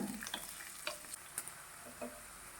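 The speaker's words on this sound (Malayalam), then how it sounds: "ഇനി ഇതൊന്ന് ചെറുതായി വഴറ്റിയെടുക്കണം" Chopped onions sautéing in coconut oil in a pan, a soft steady sizzle with a few light spoon scrapes and taps scattered through, close and fairly quiet, no talking.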